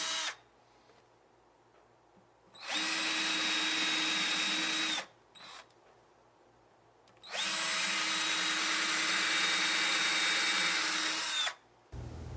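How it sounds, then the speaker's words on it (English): Two sustained bursts of a power drill with a 5mm bit whining at high speed, pre-drilling shallow holes in a wooden cabinet, the second longer, separated by a quiet pause with a brief tap. "Use your 5mm bit and pre-drill a hole 1/8 of an inch deep at each mark."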